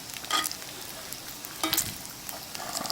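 Bacon frying in a pan while camp cooking: a steady crackling sizzle with scattered pops and spits, close and moderately loud, rising in short bursts.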